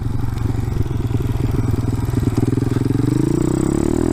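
A motorcycle cruising back toward town on a ride, its engine droning loudly and steadily close by, with the pitch rising near the end as it speeds up.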